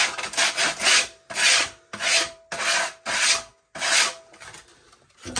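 Sandpaper rubbed by hand along a shelf edge, close, rasping strokes in a quick series of about seven short bursts with brief gaps, ending in fainter scrapes, no talking.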